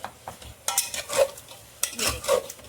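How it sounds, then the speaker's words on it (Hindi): Minced soya keema fries in a hot pan: stirring and scraping with a soft sizzle, irregular bursts of a spatula against metal, close by. "कीमा डाल के 5 मिनट तक भून लें।"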